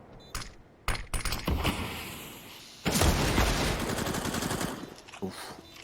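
Counter-Strike: Global Offensive gunfire crackles in bursts of sharp shots and rapid automatic volleys, loud and dense in the middle section, with faint voices underneath.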